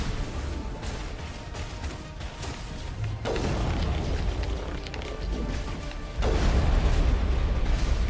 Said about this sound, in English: Okay, several more rockets.